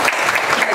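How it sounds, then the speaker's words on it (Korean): Brief, dense applause rises from attendees at a boxing world title match press conference, a close, even patter of clapping with no voices over it. "박수 부탁드립니다"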